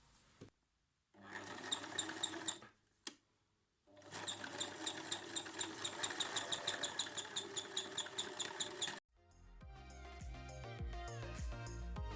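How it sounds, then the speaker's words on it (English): A sewing machine runs zigzag stitches along the edges of a cotton face mask in several bursts, a rapid rhythmic whirring clatter broken by short pauses, followed by quieter mechanical handling sounds. "And again we use zigzag stitch to the edges."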